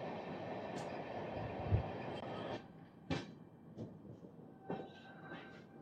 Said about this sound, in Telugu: డోన్ నుంచి గుంటూరు వరకు వెళ్ళే గుంటూరు ఎక్స్ప్రెస్.